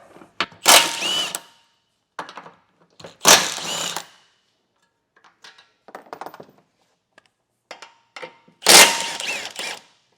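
Power tool removing hitch installation bolts on a 2023 Buick Encore, several loud close whirring bursts of an impact-style tool separated by quieter clicks, clanks and handling noises.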